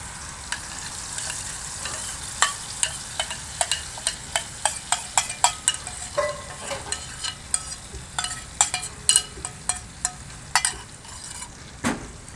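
Tikka base sizzles and fries in a hot pan while being stirred, with a steady sizzle hiss broken by frequent sharp scraping clicks of the utensil against the pan; no talking.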